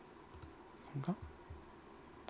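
A computer keyboard's Tab key is pressed during 3D modelling work, giving a brief, faint click or two in a quiet room.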